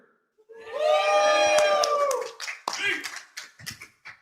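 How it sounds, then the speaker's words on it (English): A crowd at a Flesh and Blood trading card game event lets out a sustained cheer or woo, followed by scattered claps and shouts. "we got the crowd here"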